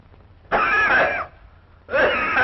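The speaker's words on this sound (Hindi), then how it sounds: "इस नानी को खांसी बहुत है।" An old woman coughs in two harsh, raspy bursts separated by a short pause, close and fairly loud with no talk.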